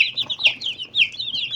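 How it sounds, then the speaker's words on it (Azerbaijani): Young broiler chicks give high, rapid peeping calls, overlapping chirps in quick succession, close by and fairly loud, with faint lower clucking underneath. "lap toyuq balaları, cücələr, başqa cücələr"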